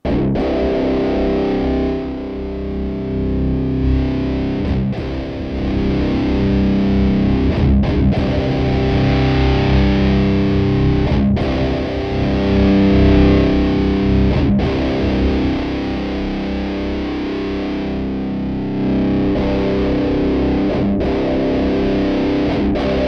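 Electric guitar driven through a Boss Metal Zone Waza Craft distortion pedal, a thick, loud, saturated tone with sustained chords and notes continuing without a break while the pedal's frequency control is swept.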